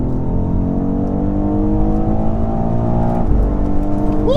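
A BMW X4 M Competition SUV accelerates on the road, its engine a steady, loud drone heard from inside the cabin that builds and shifts tone near the end.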